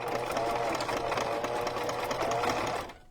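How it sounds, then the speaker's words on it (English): A sewing machine stitches a junk journal cover from the inside, running in a steady, continuous close-up whir for nearly three seconds before stopping abruptly. "I wish I knew more about sewing machines."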